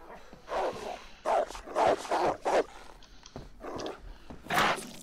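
Dogs attack in the DayZ video game with a string of close, loud barks, growls and whimpers in irregular bursts, about half a dozen snarling outbursts separated by brief pauses.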